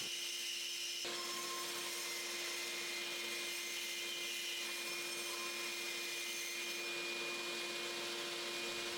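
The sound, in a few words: small bandsaw cutting a curve in wood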